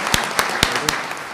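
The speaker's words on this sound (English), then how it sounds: "I want to give a round of applause for the panelists for being here." An audience applauds panelists at an economic forecast event, heard as a short burst of several spaced claps over a steady wash of room noise.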